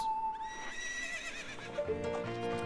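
Epona the horse neighs in Zelda: Ocarina of Time, a high, quavering whinny that wavers and falls over about two seconds, followed by in-game sounds and a few hoof clops.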